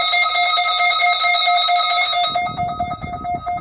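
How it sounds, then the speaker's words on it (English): A Zone Guard weather alert radio sounding its alarm, a steady piercing electronic tone held for about two seconds, then fading into a softer wavering beep over background noise. "My zone guard went off."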